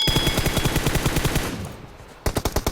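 Rapid bursts of automatic gunfire in PUBG Mobile, a steady rattling stream that pauses briefly, then resumes in loud, evenly spaced shots.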